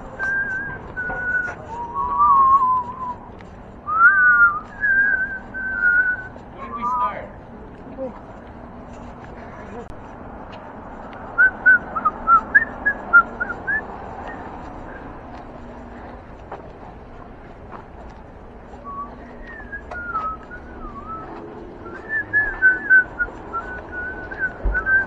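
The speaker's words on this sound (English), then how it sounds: "Oh, I was whistling the whistle song." A person whistles a simple tune in short melodic phrases separated by pauses, close and clear, with quiet room noise between and other people talking at times.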